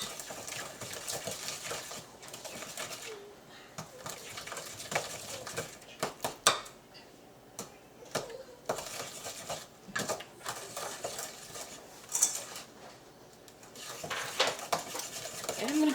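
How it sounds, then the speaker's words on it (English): Cake batter for a lemon loaf is creamed in a mixing bowl, the utensil making irregular scraping, knocking and clattering sounds against the bowl that come in bursts with short pauses. "I'm going to cream this out"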